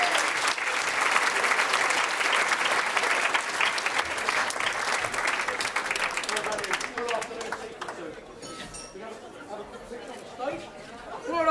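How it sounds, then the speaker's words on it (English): Audience at the Norfolk Care Awards 2016 ceremony breaking into sustained, dense applause that thins out toward the end, leaving scattered claps and murmuring voices. "Give a nice round of applause."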